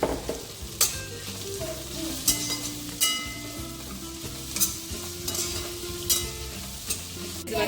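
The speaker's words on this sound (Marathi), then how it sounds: "लसूण, खोबरं आणि कोथिंबीर ह्याची जी पेस्ट केलेली ही पेस्ट आपण आता ह्याच्यामध्ये घालणार आहोत आणि हे चांगलं परतून घेणार आहोत" A paste of garlic, coconut and coriander sautéing in a pan for Schezwan rice, with a continuous sizzle under repeated sharp scraping and clanking strokes of a spatula, close and fairly loud, no talking.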